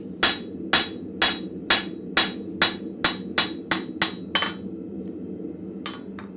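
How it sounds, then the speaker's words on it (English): Hot steel hook hammered flat on an anvil in a blacksmith shop: about a dozen sharp, ringing strikes at a steady pace, fading slightly, then a pause and a couple of lighter taps, close and clear with no talking. "Bring it over to my anvil, and then just gonna flatten down a spot."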